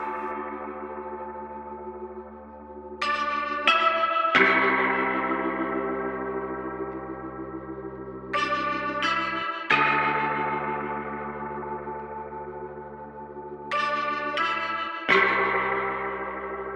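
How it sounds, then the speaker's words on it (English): Autoharp in vintage articulation, strings plucked with a plaque for a rough tone, sounding as sustained strummed chords with bright attacks that recur roughly every five seconds, alone and fairly loud. "Vintage articulation is inherited from previous versions of the Autoharp. It has a rough sound, which was achieved by plucking the strings using a plaque."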